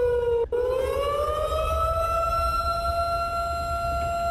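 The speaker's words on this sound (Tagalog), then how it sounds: "Pagtingog sa sirena." A loud warning siren sounds alone, a sustained wailing tone that rises in pitch after a brief dip and then holds steady.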